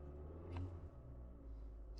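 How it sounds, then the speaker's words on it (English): Kia Forte engine running rough at idle, a faint low rumbling drone with slight unevenness and no talk over it. "The engine doesn't sound great, but at least this is on."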